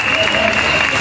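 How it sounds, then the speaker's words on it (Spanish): Applause and cheering from a carnival concert crowd in Puerto del Carmen, Lanzarote, for a Canarian band: a brief, dense, loud burst of clapping with a sustained tone running underneath. "Venga el aplauso para esta banda canaria"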